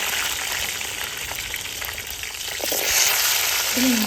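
Peeled small shallots sauté in hot oil after mustard seeds have popped, a steady broadband sizzle that swells louder toward the end, with faint stirring scrapes and no talking.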